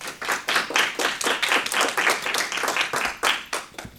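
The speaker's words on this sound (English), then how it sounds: "I don't think I've ever gotten applause before" An audience at a school board candidates night applauds to welcome the evening's moderator, a steady round of clapping from many hands lasting about four seconds, fairly close and with no talk over it.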